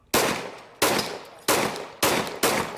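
Five sharp gunshots ring out at a home during a break-in attempt, each a loud, close crack with a trailing decay, spaced about half a second to a second apart with no voices.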